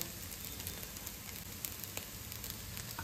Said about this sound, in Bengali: আর ম্যাগিটা ফ্রাই ম্যাগি বানাচ্ছি ডিম দিয়ে, তো ভাজা ভাজাই হবে